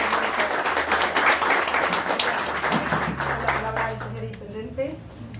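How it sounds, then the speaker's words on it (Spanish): Audience at a rural community gathering applauding, loud dense clapping that thins out near the end while a voice speaks over it. "les pido un enorme aplauso para Nelson."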